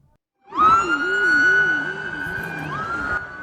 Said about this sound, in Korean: 경찰차들이 요란한 사이렌 소리와 함께 도로 위를 내달립니다